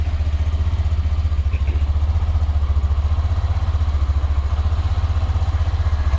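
A motorcycle engine runs close by with a loud, steady, pulsing low rumble that sounds like idling and holds constant throughout, with no voices.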